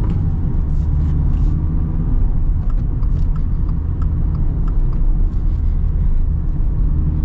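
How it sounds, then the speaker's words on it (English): The turbocharged engine of a Subaru WRX Baja off-road build drones loud and steady while driving, a dense low rumble filling the cabin with no breaks or gear changes. "Listen to that. Love that turbo noise."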